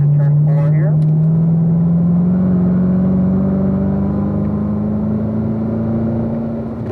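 Corvette Z06 on a racetrack braking and downshifting to third gear, its engine note loud and close, sliding steadily as revs fall, with a brief mechanical blip at the start.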